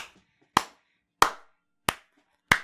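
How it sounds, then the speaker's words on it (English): Four slow, evenly spaced hand claps ring out one at a time with silence between them, a sarcastic slow clap heard after a FIFA 19 match commentary. "Slow clap for the boys."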